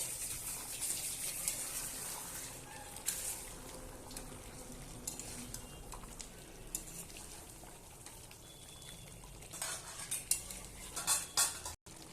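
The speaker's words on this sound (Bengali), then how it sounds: "এবার আমি ভালোভাবে একটু নেড়ে দেবো" Chicken curry being stirred in a pan just after hot water goes in, with soft scraping and clinking of a utensil against the pan over a low bubbling sizzle, moderately quiet and steady, a few sharper knocks near the end.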